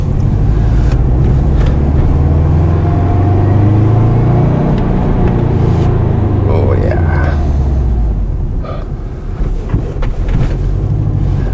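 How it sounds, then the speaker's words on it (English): A Subaru Forester SH fitted with a handmade exhaust gives a deep, steady engine rumble from inside the moving car, rising and falling in pitch with revs, with a voice speaking over it partway through. "I can hear the deepness of the rumble coming through that now, which is lovely"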